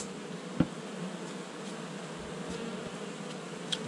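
A steady hum of honeybees in flight around an opened hive, close and even, broken by a single sharp knock near the start and faint clicks; no voices.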